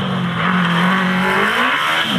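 A race car, car 65 driven by Robert Hewson, goes off the circuit, its engine droning with shifting pitch as it recedes down the track, loud and continuous.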